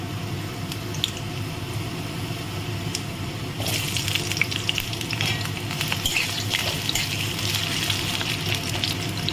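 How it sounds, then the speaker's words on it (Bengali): Potatoes frying in hot oil with cumin seeds give a close, continuous sizzle that grows louder and crackles more sharply partway through as the pieces are stirred in the pan. "আলুটা একটু ভেজে নেব।"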